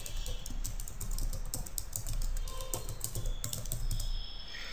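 A domain name typed on a computer keyboard at a desk while logging into a web hosting control panel, a quick run of light, close key clicks in a steady rhythm.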